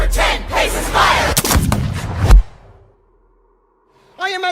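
A pistol shot rings out in a stage performance of the duel scene from Hamilton, a single loud crack amid dense music and voices, followed by near silence and then a sung note.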